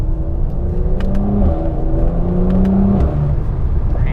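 Facelift Mercedes C43 AMG in Sport Plus mode accelerating from the driver's seat, a loud, close engine note rising in pitch through several steady sweeps with a deep rumble underneath.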